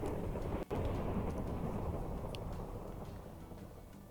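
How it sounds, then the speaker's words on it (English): A deep rumbling boom like thunder from storm clouds and an explosion spell in a Minecraft magic mod rolls on and slowly fades across several seconds, with a brief dropout near the start. "the spell to summon the Mystic Staff of Explosive Mana Condensation, which will cause storm clouds to gather and strike down a mighty explosion"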